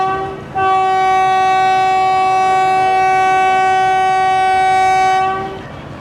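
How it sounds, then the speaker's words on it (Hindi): Shuttle train departure horn at a mountain railway station, one long loud sustained blast lasting about five seconds, very close and tonal, then fading out. "पहुंचने के साथ ही डिपार्चर हॉर्न भी हो गया पहला"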